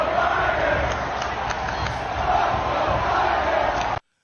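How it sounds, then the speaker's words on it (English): A huge stadium crowd at a country concert chants in unison, a dense, loud, continuous roar of thousands of voices that holds steady, then cuts off abruptly. "Like the whole crowd just starts chanting."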